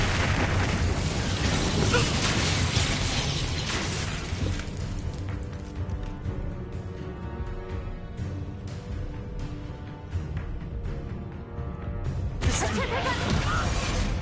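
Rapid spell casting in the Hogwarts Legacy video game, with loud bursting blasts and booming impacts over a dense wash of combat noise. The volume stays high throughout, with a fresh surge of blasts near the end.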